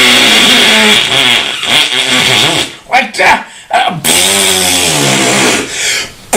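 A voice imitates a motorbike engine for several seconds, lips buzzing and pitch rising and falling like revving at a racetrack, broken by short pauses and some brief talk.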